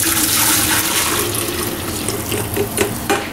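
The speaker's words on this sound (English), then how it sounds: "I'm going to go ahead and pour it in like a pitcher here." Strained juice from a chuck roast pours into a pitcher, a bright splashing liquid stream that fades and trickles to a few final drips.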